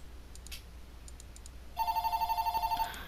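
A phone rings for about a second in a rapid trilling burst of repeated electronic pulses. It starts abruptly after a quiet stretch of faint clicks and stands out clearly.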